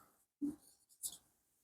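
A few brief pen or chalk strokes on a board during a physics lecture, two short scratchy marks close by in a quiet room.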